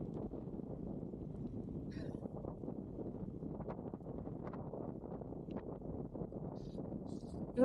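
Steady wind buffets the microphone outdoors in a park, a continuous low rumbling roar that runs through the whole stretch with little change.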